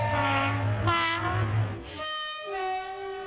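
A train sound effect: a rumbling train with a sustained multi-tone horn blast, then a second horn note after a short break, loud and close.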